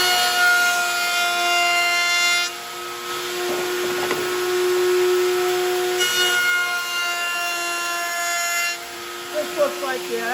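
A router fitted with a 3/8-inch round-over bit cuts the edge of a 3/4-inch wood board for a jewelry box, giving a loud, close, steady motor whine that shifts in pitch partway through, with rougher bursts as the bit bites into the wood.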